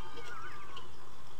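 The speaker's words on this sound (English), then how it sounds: "As you can see, that was a cat." A cat meows inside the video game Postal 2, a short mewing cry heard amid steady game background noise, with no talk over it.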